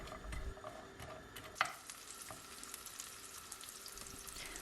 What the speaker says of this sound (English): Then going to saute the peppers and sucuk in some butter first.